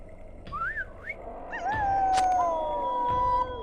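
A melodic whistle is blown in a Lord of the Rings Online game scene, sliding up and down in warbling phrases before settling into a long, steady sustained tone, mid-loud over a soft ambient game backdrop.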